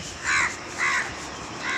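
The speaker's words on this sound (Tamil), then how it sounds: "போகும்போது காக்கா சத்தம் மட்டும்தான் இருந்தது" Crows caw on an early morning walk: three loud, harsh calls spaced evenly about half a second apart, close by, with no voices.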